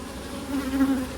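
Honey bees buzz steadily and close during a hive inspection, a low continuous drone with slight swells, alone.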